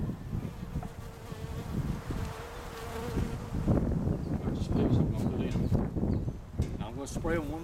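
Many honey bees buzz continuously up close in a dense, wavering hum, with faint voices and rustling in the background.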